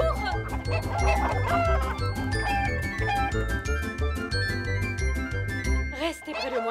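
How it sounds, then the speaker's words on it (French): A flock of hungry chickens and other fowl squawking and clucking inside a shop in a children's cartoon, busy overlapping calls with jingling, tinkling dings throughout and a brief voice near the end. "On est envahi par les oiseaux!"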